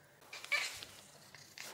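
A cat lets out a few soft, short meows indoors, faint and close, with quiet room noise between calls.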